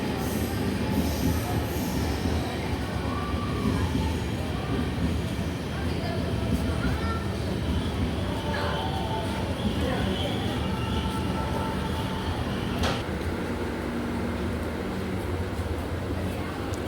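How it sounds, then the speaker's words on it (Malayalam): The Velankanni Express diesel train departs Changanassery railway station with a continuous loud rumble and clatter of wheels on rails, with occasional squeals, heard close up from on board as it rolls away. "ചങ്ങനാശ്ശേരി റെയിൽവേ സ്റ്റേഷനിൽ നിന്ന് ട്രെയിൻ എടുക്കുകയാണ്."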